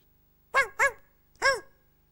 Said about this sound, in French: Bien sûr, le chien.